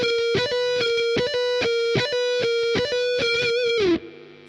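A distorted electric guitar plays a shred lick with deliberately wrong timing: loud, close, choppy repeated notes in an uneven rhythm that end with a downward bend and a fading ring.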